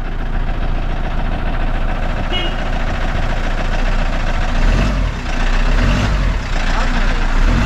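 A faulty camper van engine revs loud and steady close by, with a slight swell in the middle, under some background voices.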